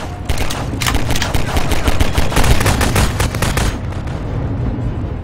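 Rapid bursts of automatic gunfire and scattered shots in Garry's Mod Half-Life 2 roleplay, loud and dense for about four seconds before thinning out, with no talking.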